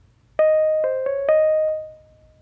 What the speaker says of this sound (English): Right here in the top, we have our synth that you will be able to hear.